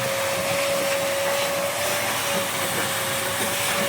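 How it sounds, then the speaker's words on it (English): A vacuum sucks muck out of the trough of a pizza oven during maintenance, a loud, steady rushing roar with a constant tonal hum, close and unbroken throughout. "Currently he is sucking all the muck out of the trough."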